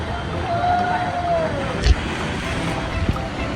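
Steady rushing surf of waves in a wave pool at Bangi Wonderland, a broad continuous wash with a brief thump near the middle, with people talking and shouting nearby.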